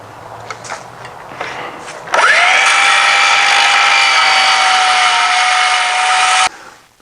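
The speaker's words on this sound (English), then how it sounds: "I'm going to cut 1/2 inch off this end and 1/2 inch off this end" A power saw spins up sharply and cuts half an inch off the end of a wooden stile for a lumber storage cart, a loud, steady whine lasting several seconds before winding down.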